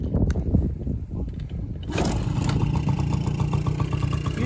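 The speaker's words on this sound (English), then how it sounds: "Now let's hear how she sounds." A Honda Motocompo folding scooter engine starts up after a rough cranking stretch and settles into a steady, close, buzzing idle with a fast even pulse.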